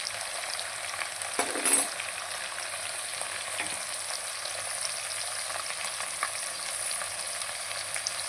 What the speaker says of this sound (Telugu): బాగా కలుపుకోవాలి అల్లం వెల్లుల్లి పేస్ట్